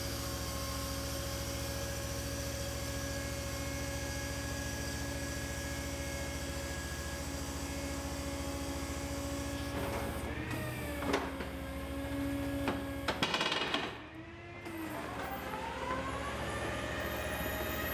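A tow truck's bed lowers with a vehicle on it beneath a shop, a steady mechanical whine over an engine drone, with shifting tones, clunks and a louder burst of activity toward the end.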